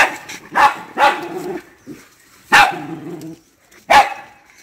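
Dogs bark nearby in four or five loud, separate barks spaced irregularly, with quiet stretches in between.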